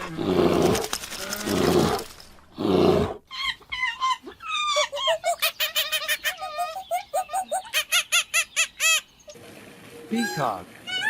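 A bear lets out a loud, rough, rumbling growl up close for the first few seconds, followed by a long run of rapid, rhythmic, higher-pitched huffing calls that end in another harsh burst.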